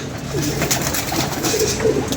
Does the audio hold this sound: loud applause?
no